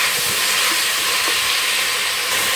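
Bamboo shoots being stir-fried in a pan give off a loud, steady hiss and sizzle throughout, with faint clatter beneath and no talk.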